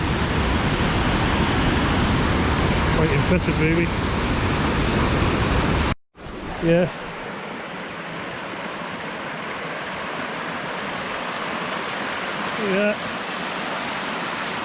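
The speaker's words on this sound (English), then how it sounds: "Bit of water going over." Water pouring over Cauldron Snout, a cold upland cascade below Cauldron Reservoir, makes a steady, loud, broadband rush that fills the whole stretch, with a brief break partway and a few short spoken remarks over it.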